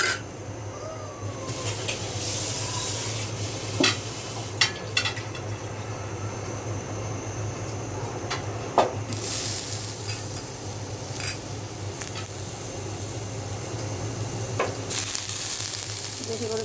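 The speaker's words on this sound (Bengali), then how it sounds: "শুটকি, রসুন আর মরিচ ভেজে নিলাম।" Dried fish, garlic and chili fry in a pan with a soft, continuous sizzle, broken by a few faint clicks and taps.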